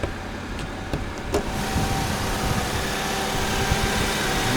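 A Chrysler Voyager minivan engine cranks briefly and catches, then settles into a steady, fairly loud idle rumble with a constant mechanical hum, heard close by.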